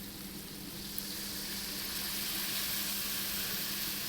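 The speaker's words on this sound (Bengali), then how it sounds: "আর একটু আমি জল দিয়ে দিচ্ছি।" Water poured into a hot pan while cooking an egg and potato dish hisses in a steady, broad sizzle that holds evenly throughout, close and continuous with no talking.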